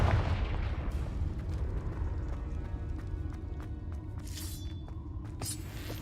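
In Hogwarts Legacy, the Confringo explosion spell lands as a sharp impact amid scattered cracks and thuds over a rumbling combat backdrop, with busy clatter and a bright crackling burst later on.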